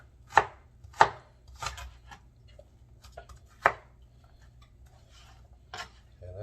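A sharp kitchen knife chops collard greens on a cutting board, giving about six crisp, close knocks at an uneven pace with quiet gaps between them.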